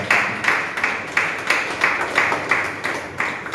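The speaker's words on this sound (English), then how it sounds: "Please a round of applause." Audience applause at a tilapia training workshop. A small group claps in a regular, rhythmic beat of roughly two claps per second, close and fairly loud, without any talk over it.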